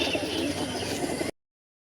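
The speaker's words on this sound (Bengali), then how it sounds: "প্রত্যেকটা পায়রা ফুল অ্যাক্টিভ পায়রা আছে।" Punjabi and Malbai pigeons at a home loft, soft cooing close by for just over a second before the sound cuts to silence.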